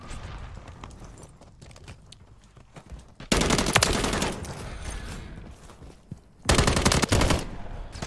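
Automatic gunfire from the BAS-B rifle in Call of Duty Modern Warfare 3, with two loud sustained bursts of rapid shots over quieter background game noise.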